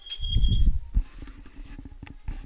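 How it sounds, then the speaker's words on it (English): A high electronic alarm beep, the kind a smoke detector makes, rings steadily for under a second over a loud low rumble, then cuts out, leaving scattered knocks and thumps nearby. "Why won't it stop beeping?"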